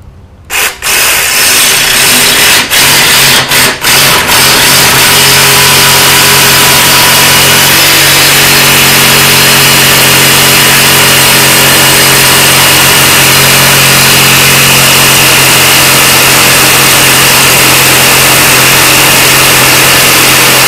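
A power saw cuts along a marked line through roughly 5/16-inch-thick material, starting with a few short bursts before settling into a loud, continuous close-up whine and grind that runs without pause.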